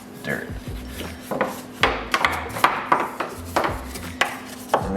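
A brush scrubs dirt from a car door jamb, giving a series of rhythmic scratchy strokes, close and fairly loud, about two strokes per second without talk.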